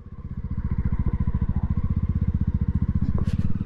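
A motorcycle rides over grass near Ralliah Dam in the Coonoor hills of the Nilgiris, its engine chugging in a fast, steady low throb for the whole stretch, loud and close, with a brief rattle near the end.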